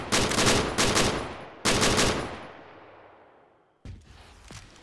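Bursts of automatic machine-gun fire in Arma 3: two close, loud rapid strings, a third longer burst tailing into decaying echo, then a brief final burst.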